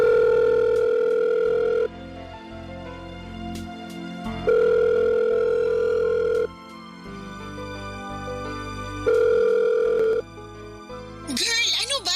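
A cellphone call tone repeats in long, steady electronic beeps separated by gaps, loud and close, with background music playing under it.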